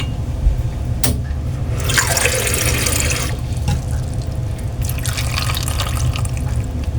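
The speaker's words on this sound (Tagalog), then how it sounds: "So lagyan natin ng sabaw." Broth poured into a pot of fish paksiw with taro, a steady close liquid pour and splash that runs continuously for several seconds with no talk.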